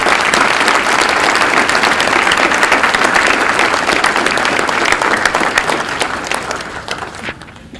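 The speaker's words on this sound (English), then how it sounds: "Please join me once more with a round of applause for these fantastic professionals" A large crowd claps enthusiastically at a police academy graduation ceremony, loud dense applause held for several seconds before tapering off at the end.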